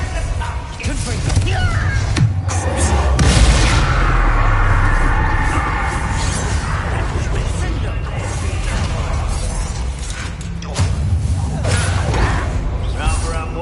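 Fire spell blasts burst out in the video game Hogwarts Legacy amid combat noise, with a loud surge around the middle and spoken voices mixed in throughout.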